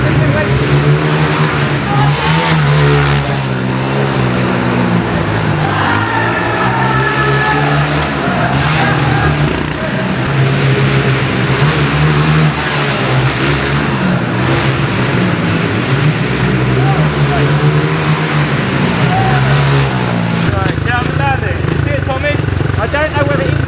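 Small minibike engine buzzing continuously around a racing lap, loud and close, its pitch rising and falling as it accelerates and slows through turns.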